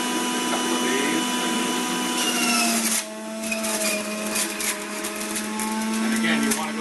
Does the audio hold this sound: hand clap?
no